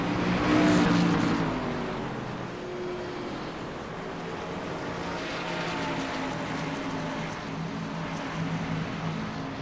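A race car engine in the iRacing video game hums at a rough, fairly low level after a spin through the grass, with washy noise and no talk.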